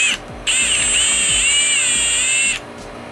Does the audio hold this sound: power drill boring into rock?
yes